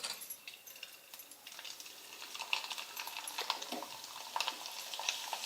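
A ragi papad sizzles in hot oil, a faint fizzing crackle with scattered pops and bubbling that grows slightly busier as it fries.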